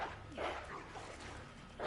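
In Resident Evil 2 (2019), a dog barks in short bursts, close and fairly loud, over steady game ambience. One yelp comes near the start and another at the end.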